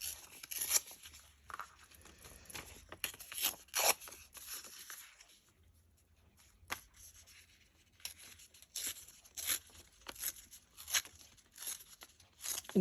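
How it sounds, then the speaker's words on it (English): Paper is ripped by hand for a journal craft project, a series of close, crisp tearing and rustling bursts with a brief quiet pause midway, and no speech over it. "We're going to cut that down or rip it down."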